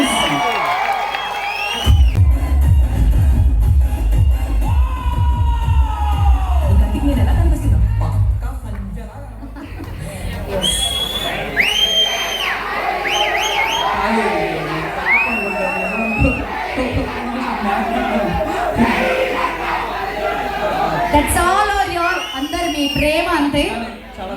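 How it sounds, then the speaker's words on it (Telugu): A crowd cheering and clapping at a Telugu film teaser launch event for Narva, with loud shouts and whoops over the applause, and a voice on a microphone at times amid the noisy hall. "గట్టిగా క్లాప్ చేద్దాం నర్వ గారికి"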